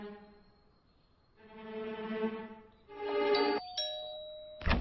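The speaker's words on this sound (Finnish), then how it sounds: "Soitan ovikelloa hämäykseksi." Doorbell in a Barbie cartoon, several ding-dong chimes ringing out in sequence, clear and close, ending with a brief louder knock-like burst, no speech.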